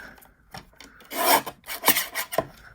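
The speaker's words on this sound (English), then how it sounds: "let's trim this now to an A2 size" Paper trimmer slicing cardstock down to A2 size for a handmade card front, a few quick, close raspy scraping strokes, the middle pass loudest, with no talking.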